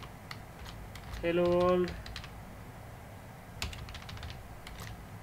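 Crisp, close keystrokes on a computer keyboard while typing code in VS Code come in two quick flurries, separated by a short spoken phrase and a pause.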